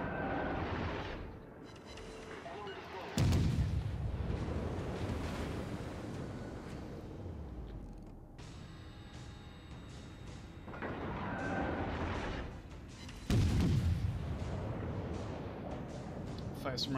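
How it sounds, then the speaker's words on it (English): Warship guns fire in World of Warships naval combat, giving heavy booming salvos at intervals over a steady rumble of sea and engine noise. Someone talks over them. "Fire some rounds at that destroyer."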